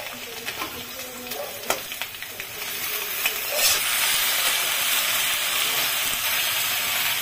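Taro stolons tossed into a pan of already-fried potatoes for a Bengali kochur loti dish, with a steady hiss that rises into a louder, fuller sizzle partway through, along with a few light clinks. No one speaks.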